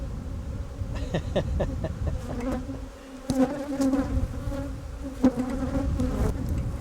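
Honey bees buzz in bulk inside bee boxes, a dense steady drone with a low hum that swells and thins over several seconds, joined by occasional sharp knocks and thumps nearby.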